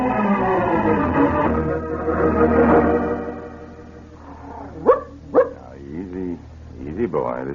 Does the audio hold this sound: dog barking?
yes